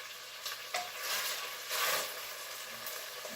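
Bacon fries in a deep pan, a steady close sizzle with occasional stirring scrapes and crackles, no voices.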